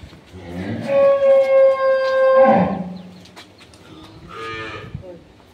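A cow moos loudly and close at a cattle market, one long low call, then a shorter, quieter moo follows amid background market noise.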